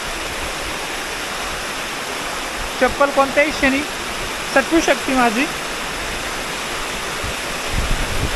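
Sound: water flowing strongly down a stream at Naneghat

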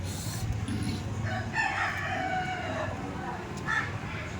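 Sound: rooster crowing

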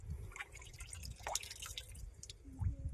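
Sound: natural spring water pouring and dripping

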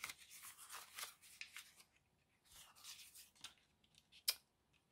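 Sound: scissors trimming paper for a junk journal

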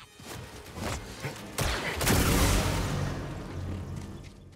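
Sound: droid gunfire in Star Wars Jedi Survivor video game

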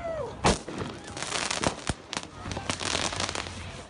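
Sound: fireworks set off during protest clashes

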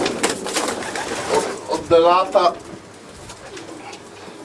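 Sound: pigeons cooing

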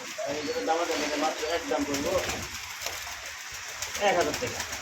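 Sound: pigeons cooing

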